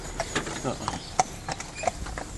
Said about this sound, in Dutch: Paardjes.